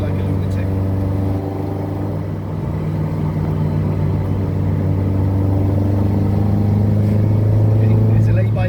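A Ford Escort MK1 under restoration drives on the Black Mountain Pass, its engine droning steadily with a low, even hum throughout, the pitch rising gently near the end.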